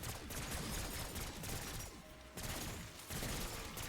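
Rapid automatic fire from a light machine gun shoots at zombies in Black Ops 6 Zombies, loud continuous bursts of gunshots with a brief lull in the middle before the firing resumes.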